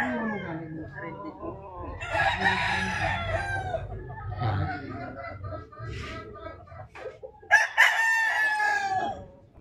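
Gamefowl roosters at a game farm in Tagaytay City, several crows and clucks nearby, with a sharp crow near the end, mixed with people talking.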